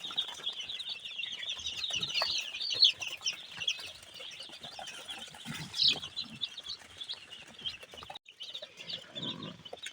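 A crowd of tiger chicken chicks on a farm keeps up dense, continuous high peeping and chirping, with some soft wing flutter and scuffling underneath and no talk.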